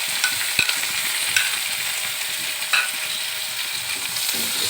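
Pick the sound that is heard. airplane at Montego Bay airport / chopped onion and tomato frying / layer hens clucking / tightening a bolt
chopped onion and tomato frying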